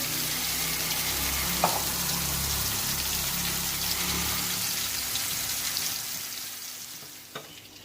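Surmai fish pieces fry on a low flame for a masala fish fry, a steady close sizzle and crackle with a couple of faint clicks near the end.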